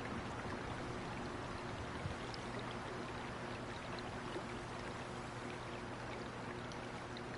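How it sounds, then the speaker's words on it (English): Flowing water and waterfalls in the hunting game Way of the Hunter, heard as a steady, broadband rushing stream that stays constant and moderately faint the whole time, with no voices. "I actually love the moving water in this game. Love the waterfalls. I love the way the water sounds."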